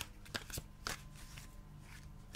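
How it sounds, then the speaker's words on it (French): Tarot cards of the Marseille oracle being shuffled by hand, producing a few quick soft riffling and slapping bursts, close and fairly quiet, separated by short pauses. "Je vais mélanger les cartes et puis je vais les tirer au hasard"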